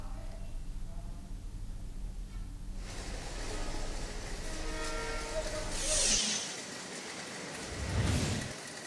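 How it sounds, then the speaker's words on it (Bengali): A passenger train at a busy railway station rumbles and hisses steadily, with a sustained horn sounding through the middle and fading surges toward the end. "সুমন, দীর্ঘ ঈদের ছুটির শেষ দিনে ঢাকায় ফেরা মানুষের চাপ কেমন দেখছেন স্টেশনে, এবং রেলে ফিরতি যাত্রা নিয়ে কি বলছেন যাত্রীরা?"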